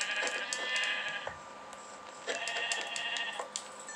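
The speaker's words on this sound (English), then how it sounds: "Oh, found some more sheep." Sheep bleat in the Minecraft video game: two drawn-out, fairly quiet bleats a second or so apart over a soft background hum, with no talking.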